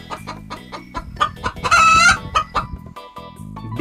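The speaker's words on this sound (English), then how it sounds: "chicken" A chicken clucks in a quick run of close, clear notes, breaking into a louder crowing call midway before settling back into clucks.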